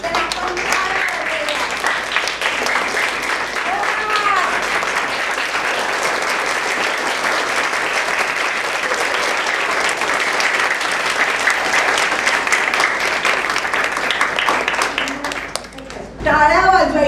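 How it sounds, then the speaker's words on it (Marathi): Children at a Marathi values camp clap together in sustained, dense applause that holds steady for most of the stretch before breaking off near the end, with voices faintly mixed in. "टाळ्या वाजवायच्या मुलांनी."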